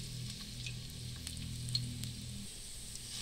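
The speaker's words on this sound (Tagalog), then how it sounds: "Halo-haloin natin ang bawang hanggang sa maging golden brown siya." Garlic sautéing in a pan for Bicol Express, a steady, moderately quiet sizzle and crackle that carries evenly through the whole stretch with no talking.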